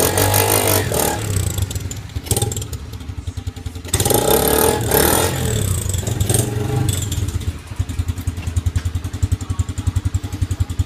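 Close motorcycle engine and exhaust, a loud rough rumble with uneven revving surges and bursts of clatter, steady throughout with no talk.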